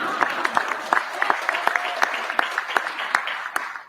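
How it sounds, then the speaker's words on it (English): An audience at a community economic development announcement in the Parkland neighborhood of Louisville claps steadily, with sharp individual claps standing out over a continuous bed of applause that fades near the end. "big clap."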